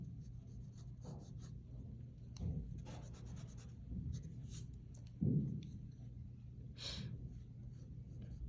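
A pencil sketches light lines on paper, soft scratchy strokes in short separate bursts, close and quiet, with faint breathing between them and no speech.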